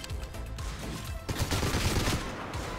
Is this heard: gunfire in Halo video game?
yes